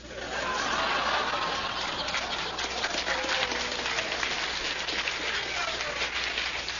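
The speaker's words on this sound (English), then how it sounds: "Listen to the phonies applauding here." An audience at the Limelight applauds in a steady, faint, crackling wash of clapping that lasts for several seconds.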